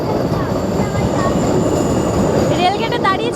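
A train rolls past a railway crossing with a loud, steady rumble of wheels and cars, and a metallic wheel squeal rises near the end while faint voices sit underneath.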